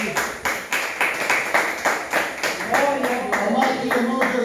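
Congregation clapping in praise at a church service, a steady rhythmic beat of hand claps roughly every half second, fairly loud and close, with voices and singing mixed in underneath.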